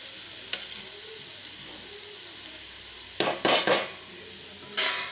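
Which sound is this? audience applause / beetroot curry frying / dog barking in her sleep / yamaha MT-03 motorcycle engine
beetroot curry frying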